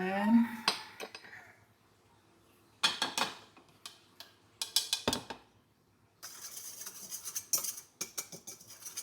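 Dry carrot cake muffin ingredients (baking soda, salt, cinnamon, cloves, ginger and nutmeg) whisked in a bowl, heard as four separate bursts of quick rattling, clinking metal strokes with quiet gaps between them, close by.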